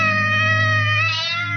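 A single cat gives a long, close, loud meow that rises slightly and fades, heard alone without other sounds.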